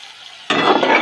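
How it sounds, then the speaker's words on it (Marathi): Finely chopped tomato and onion hit hot oil, bursting into a loud, close, steady sizzle after a brief quieter moment, with faint stirring clinks. "आता या तेलात मी टोमॅटो आणि कांदा बारीक चिरलाय, आता या तेलात मी चांगला भाजून घेणार आहे"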